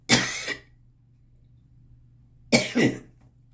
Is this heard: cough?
yes